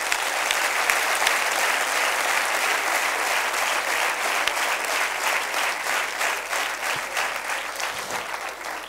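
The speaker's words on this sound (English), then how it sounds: "a big round of applause to all of you" An audience at a panel discussion applauds loudly and steadily, a dense wash of clapping that holds for several seconds and only thins slightly at the end.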